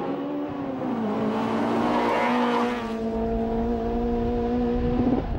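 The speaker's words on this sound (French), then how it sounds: "les montées en régime jusqu'à 8700 tours procurent une envoûtante sonorité" A Honda Integra Type R from 1997 with its VTEC engine revving toward 8,700 rpm: a loud, close, rising engine howl with a shift partway through, then sustained high-rev drone. No speech.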